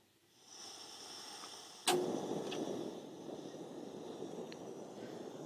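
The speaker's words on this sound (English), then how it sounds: "You can turn the burner on here and then you push the button to ignite it." A propane burner on a small portable camp stove catches with a sharp click, then settles into a quiet, steady hiss of flame in an otherwise still setting.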